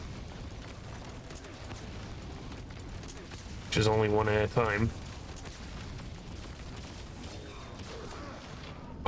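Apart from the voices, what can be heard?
hand cannon firing in video game Metal Gear Solid V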